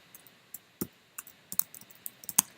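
Quiet, irregular keystrokes on a computer keyboard, a dozen or so separate clicks spread unevenly as an email is typed, with no one speaking.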